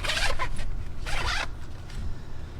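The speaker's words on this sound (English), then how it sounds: "And then it zips up really flat." A backpack pocket zipper pulled closed in two quick, close, rasping strokes, loud and clear with no talking.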